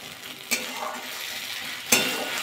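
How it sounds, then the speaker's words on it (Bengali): Green peas being stirred into masala in a pan for matar paneer, a soft steady frying hiss close by, marked by two sharp clacks of a spoon against the pan. "মটরশুঁটিটা এবার দিয়ে দেবো। মশলা দিয়ে একটু কষিয়ে নেবো।"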